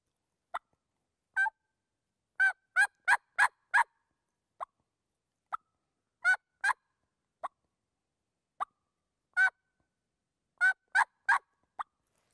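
Hand-operated turkey call imitates a plain hen yelp, producing short, sharp yelps in loose clusters of two to five notes separated by silence, clear and close with nothing else heard.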